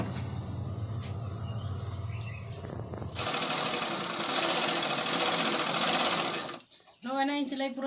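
A sewing machine stitches steadily, fast and whirring for several seconds, then stops as a voice speaks near the end.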